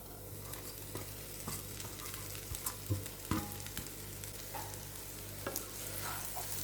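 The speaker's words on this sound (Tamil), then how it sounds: "இந்த மசாலாவோட வெண்டைக்காவை நல்லா கிளறி விட்டாச்சு" Okra fried with masala in a pan for a spicy lady's finger fry, stirred steadily over a continuous sizzle, with soft scraping strokes and a few sharper clinks of the spoon against the pan.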